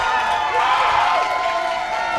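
Crowd at a local boxing match in Millvale cheering loudly, a dense sustained roar of voices with rising shouts, heard close and continuous.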